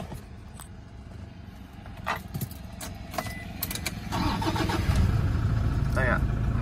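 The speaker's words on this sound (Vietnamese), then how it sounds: "Bây giờ em sẽ lổ máy lên." A 2012 Toyota Hilux diesel pickup engine cranks and catches, settling into a steady idle rumble, with someone talking over it and a brief jingle of keys.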